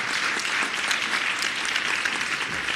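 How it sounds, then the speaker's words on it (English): Steady, sustained applause from a conference audience after an IMF panel discussion, a dense wash of clapping at even loudness with no break. "Please give Kristalina a round of applause."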